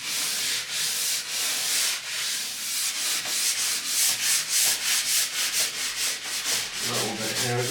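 Old wax is scraped off a pair of skis in a run of close, rasping strokes that follow one after another. The strokes grow quicker and more clipped toward the end, with no voices.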